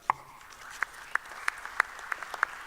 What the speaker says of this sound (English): I now invite all of you to join me in giving a warm round of applause to Associate Professor Pimol Srivakon and his team